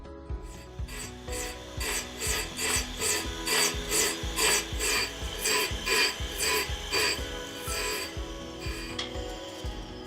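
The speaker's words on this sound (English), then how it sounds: "The surface grinder does a pretty nice job." A surface grinder works a screwdriver blank with steady, rhythmic rasping passes, each stroke swelling and fading in a regular back-and-forth pattern, loud and close with no voices.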